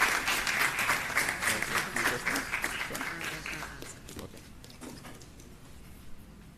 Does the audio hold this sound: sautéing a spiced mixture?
no